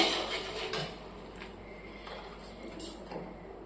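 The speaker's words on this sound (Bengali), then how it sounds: "এবার এটাকে একটু নাড়িয়ে নেবো একটু নেড়ে চেড়ে নিতে হবে ভালো করে" Chilli powder and spices being stirred in a cooking pan, a spoon scraping and clinking against the metal in scattered light strokes, fairly quiet and close.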